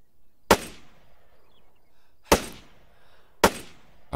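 An HK 417 rifle firing 7.62 mm rounds in the video game Arma 3 lets off three separate sharp, loud shots at uneven intervals, each with a short decaying tail.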